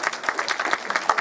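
A cinema audience at a screening event applauds guest Katarzyna Miller, a light, modest patter of separate claps over about a second, moderately quiet.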